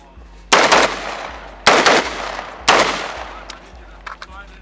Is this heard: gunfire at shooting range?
yes